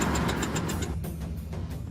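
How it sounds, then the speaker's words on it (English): A Mazda engine misfires and runs rough on three cylinders, a close, uneven pulsing rumble that sputters in a brief stretch. "Engine's gone, back on 3 cylinders."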